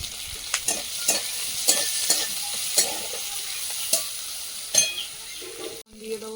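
Onion and chopped ginger frying in oil for a river tengra fish curry, a soft steady sizzle punctuated by regular spatula knocks roughly every half second, ending in a brief clatter.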